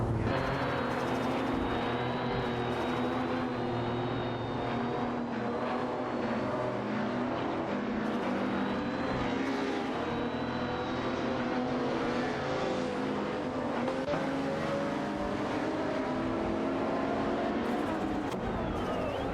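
Several racing cars in an AI racing game drone on continuously, with layered engine tones that rise and fall as they jostle for position. The sound is steady and moderately loud throughout, with no clear pauses and no voices.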